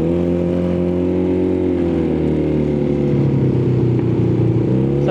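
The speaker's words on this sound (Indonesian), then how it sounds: "Pelan aja lepas gas ada suara backfire ya anjir." Custom Honda Spacy scooter converted to a two-cylinder 220 cc engine, its loud steady exhaust note dipping as the throttle is eased off, close and alone with no talk.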